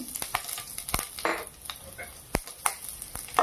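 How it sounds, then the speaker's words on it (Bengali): Crushed garlic frying in mustard oil in a kadai, a soft continuous sizzle broken by sharp stirring clacks and scrapes at irregular intervals, close and fairly quiet. "একটু লাল লাল করে ভেজে নেব।"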